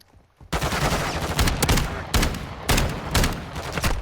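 A shotgun fires in Modern Warfare II, heavy booming blasts landing in quick succession over constant battlefield noise, loud and close with no talking.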